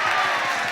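Football crowd at a National League North match, Darlington against Guiseley, murmuring and rising as a penalty kick is taken, a dense, steady roar with no single peak.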